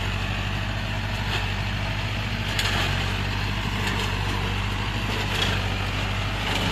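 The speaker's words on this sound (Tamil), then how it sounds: "மகேந்திரா டிராக்டர் அர்ஜுன் 605 டிராக்டரில் வந்துட்டு இந்த மல்ச்சரை மாட்டி ஓட்டிகிட்டு இருக்கோம்." A Mahindra Arjun Novo 605 DI-i 57 HP four-wheel-drive tractor drives a 16-blade Maschio mulcher through cotton stalks in a field. The engine and mulcher make a loud, steady, dense drone close by.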